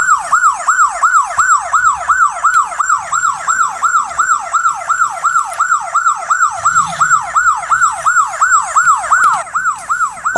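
A loud wailing police car siren sweeps up and down in a fast, steady rhythm, continuous throughout, with faint traffic rumble underneath.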